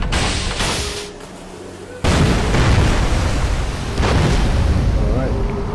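A heavy explosion from a torpedo striking in the naval strategy game Order of Battle WW2 sets off a loud, rumbling burst. The blast sustains and then swells again as a second impact, over an earlier muffled background.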